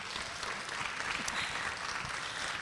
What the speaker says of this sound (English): let's first give ourselves a round of applause for that